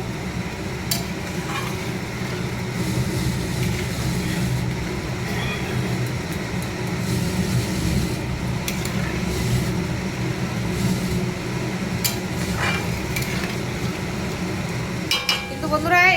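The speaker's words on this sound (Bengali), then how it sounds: "এবার ভালো করে নাড়াবো, নাড়িয়ে মশলাটাকে পুরো ওর সাথে মিক্স করে দেবো।" Masala stirred in a pan with yogurt for a yogurt curry, a steady low sizzle and scraping bubbling that runs continuously at close range, with a faint hum of background noise.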